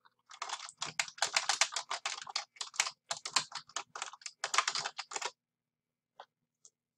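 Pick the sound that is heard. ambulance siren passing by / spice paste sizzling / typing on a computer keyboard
typing on a computer keyboard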